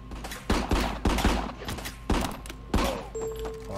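Gunfire in the video game Rico, a few loud close bursts of shots in quick clusters with heavy thuds between them, ending with a brief electronic tone.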